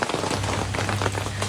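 Rain patters fast and close on plastic sheeting strung up over a market lane, a dense steady drumming with no voices.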